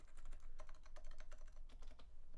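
Rapid typing on a Leopold FC660C Topre keyboard, silent version with 45-gram switches, produces soft, muted keystrokes in quick irregular bursts, close up and with no talking.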